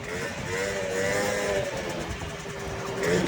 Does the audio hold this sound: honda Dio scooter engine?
yes